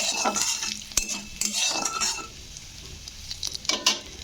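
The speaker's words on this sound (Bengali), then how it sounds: "গোটা জিরে তো দিয়ে এটাকে একটু ভাজা ভাজা করে নিতে হবে" Whole cumin seeds frying in oil with a dried red chilli and bay leaf, a soft sizzle broken by repeated sharp scrapes and clinks of a spoon stirring the pan.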